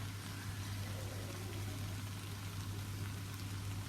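Pasta sauce and water poured into a pan for a vegetarian bolognaise, a steady liquid pour that runs without break, close and moderately loud over a low constant hum.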